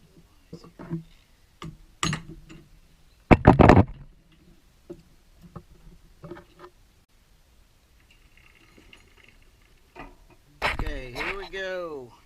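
Sharp hammer knocks ring out as seals are driven out of a Sea Ray seawater pump clamped in a vise: a few isolated hits, then a brief cluster of louder blows, with someone talking quietly between them.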